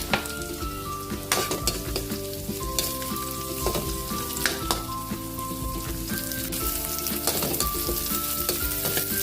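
Garlic and onion fry in a pan, a loud continuous sizzle broken by clattering utensil stirs and scrapes, with no voices.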